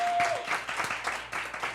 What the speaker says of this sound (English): So give her a round of applause for coming through